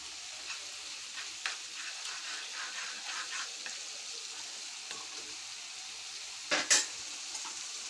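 Chili and spices fry in oil for a Bengali fish curry, a soft continuous sizzle with light stirring scrapes, ending in a brief louder clatter of a utensil on the pan, close and quiet.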